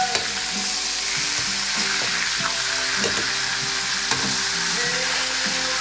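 Pork chops, including rib end pieces, sizzle in a frying pan with a loud, continuous close-up crackle and hiss and occasional sharper pops, with no voices.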